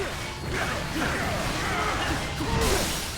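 Repeated smashing blows on a core computer in Marvel Ultimate Alliance 3, a dense clatter of thuds and whooshes over busy game noise, with a sharper burst near the end.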